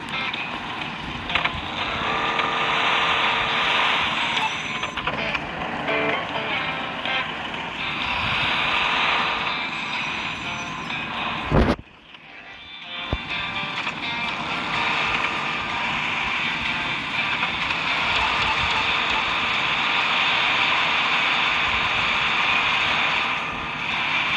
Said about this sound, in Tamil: ஆனால் இந்த வண்டி தண்ணியில் போகிற ஒரு சவுண்டு வரும்.